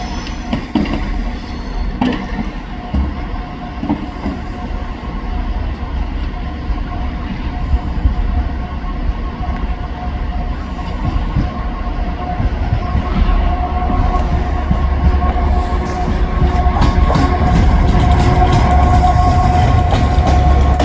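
A train runs past the platform at Crewe station on a breezy day, a sustained loud rumble with steady rail noise and tonal hum that builds slightly toward the end, with no talk over it.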